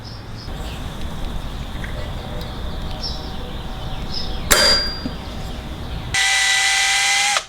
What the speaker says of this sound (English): As you can see, the holes are drilled and the bolts go in.